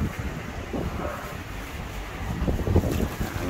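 Strong storm wind blowing steadily outdoors, a broad rushing roar with gusty buffeting against the microphone, swelling louder near the end.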